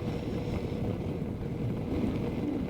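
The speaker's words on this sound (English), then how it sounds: "You may not be able to hear us very good because of the wind." Strong wind buffets an outdoor microphone on the coast at Coos Bay, a steady low roar with rumbling gusts throughout and no voices.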